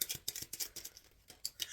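Tarot cards are shuffled in quick crisp bursts, a faint close riffling patter in uneven clusters with short gaps between them.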